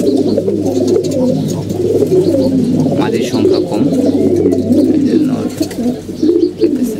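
Pigeons coo steadily and repeatedly throughout, close by, while someone talks over them and a low hum runs underneath.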